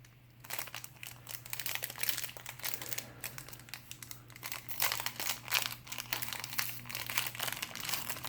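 Foil wrappers from Star Wars CCG card packs crinkle and crackle close up in dense, continuous bursts, with no talking.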